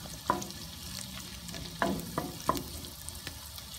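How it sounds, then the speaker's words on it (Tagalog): Onion, garlic, ginger and tomato sauté for pinakbet over a backyard fire, a soft low sizzle broken by a few sharp metallic spatula clanks against the pan, with no talking. "Igisa muna natin yung mga ano, sibuyas, bawang, luya, tsaka kamatis"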